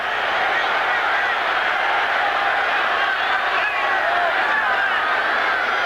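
Large stadium crowd at a 1983 Raiders at Cowboys NFL football game, a steady roaring wall of cheering and noise urging the defense, loud and continuous throughout.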